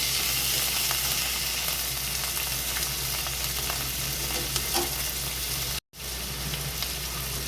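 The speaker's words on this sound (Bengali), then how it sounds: "একটু দিয়ে দিচ্ছি সরু সরু করে কাটা ক্যাপসিকাম আর টমেটো" Thinly sliced capsicum and tomato stir-fry in butter with softened onion, a dense, even sizzle that runs close and loud throughout and is cut off by a brief dropout near the end.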